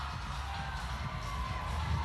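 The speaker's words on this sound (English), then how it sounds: "let him hear you guys. Cheer them on." A crowd at the 2023 CrossFit Games Semifinals cheers on athletes during a ring-complex workout: a steady, distant wash of voices and shouts over a low rumble, fairly faint and unbroken.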